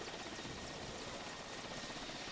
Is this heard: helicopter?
yes